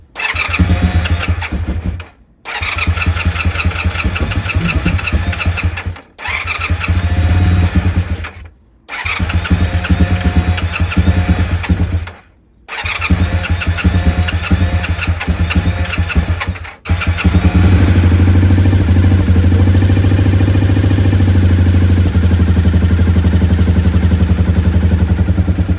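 Honda VFR400 NC30 motorcycle engine, recently fitted with new intake rubber boots to cure an air leak, cranks in several bursts separated by short pauses before catching and settling into a steady, loud, close idle.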